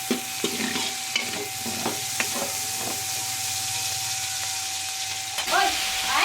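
Onion and garlic sautéing in a pan in a rural home kitchen, loud hissing sizzle with repeated sharp scrapes and clacks of a stirring utensil, a steady hum underneath, and a brief voice near the end.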